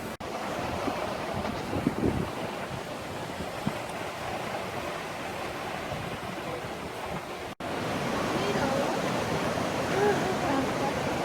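A treacherous river rushing below the grate of the abandoned Alexandra Bridge, a constant broad roar of flowing water mixed with wind buffeting the microphone, with a brief dropout midway.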